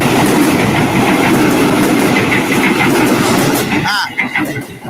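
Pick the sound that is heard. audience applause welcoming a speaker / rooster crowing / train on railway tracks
train on railway tracks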